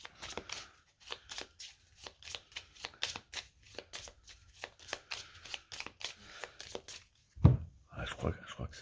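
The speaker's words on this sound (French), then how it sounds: "Donc on mélange tout." A deck of playing cards is shuffled by hand in a game. It makes a quick series of crisp, close riffling bursts in a loose rhythm, followed by a heavy thump as the pile is squared.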